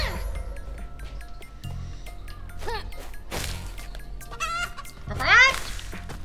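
Chickens cluck and squawk in the video game Skeleton Crew, several short clucking bursts and a louder flurry near the end amid game clatter and thumps.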